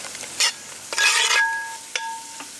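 Onions and chillies sautéing in a hot pan, with a few close bursts of spatula stirring over a soft sizzle.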